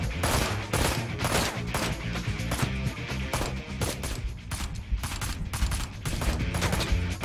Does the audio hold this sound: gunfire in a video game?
yes